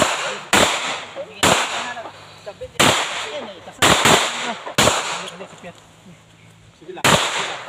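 Sharp gunshots from 9mm pistols and shotguns at an outdoor firing range, about eight loud cracks spaced irregularly around a second apart, with faint voices between shots.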